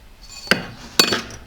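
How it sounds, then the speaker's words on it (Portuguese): Two sharp metallic taps about half a second apart, each with a brief ringing tail, as a ring with set stones is hammered on a steel ring mandrel. "Quando você colocar no tribulé para bater"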